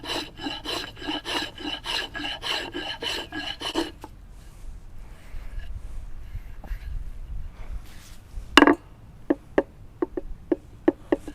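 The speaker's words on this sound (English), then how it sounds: "I'm going to shave a little bit more." Wood being shaved to taper a spindle stool leg: a quick run of about eight rhythmic rasping strokes close up, then quieter scraping and a few sharp taps and clicks.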